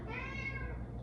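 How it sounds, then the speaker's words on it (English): A pet cat meows once in a long, drawn-out call near the microphone, indoors during a kitchen slime-making activity, with a steady low hum beneath it. "I am so sorry about my cat."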